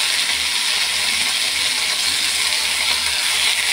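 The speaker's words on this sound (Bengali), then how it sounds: "একটু ভাজা হয়ে যাক" Chopped eggplant and onion frying in a pan with oil and salt, giving a steady, close hiss and sizzle with no talking.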